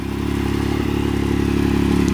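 A Can-Am Maverick XRS Turbo side-by-side running through its factory muffler, a loud, steady low rumble that holds close and constant with no talking.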